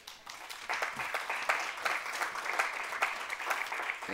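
Steady audience applause after an author's reading of a short story at a literary event, a moderately distant, even patter of many hands clapping throughout without a break.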